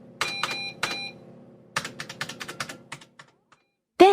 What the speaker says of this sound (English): He was typing a kind of code on the screen.